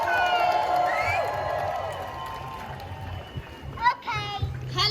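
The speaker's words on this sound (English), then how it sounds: "Please give a big round of applause to Sabrine." An outdoor protest crowd at the National March for Palestine in Cardiff cheers and whistles, rising shouts and shrill whistles over a busy crowd hum, with people talking throughout.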